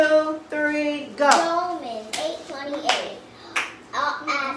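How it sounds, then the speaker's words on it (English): A few hand claps land at a steady, slow beat, keeping time for a young child who sings loudly over them. "You need me to clap for you?"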